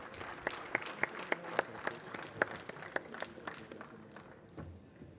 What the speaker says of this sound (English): Ladies and gentlemen, please a huge round of applause.